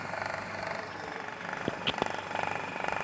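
An air cooler motor, wired directly, runs with a steady, rattling drone throughout. A couple of faint clicks and knocks sound over the hum.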